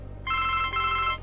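A telephone rings inside the video game The Blackwell Legacy, one sustained electronic ring over a low background hum, clear and fairly loud, with no talking.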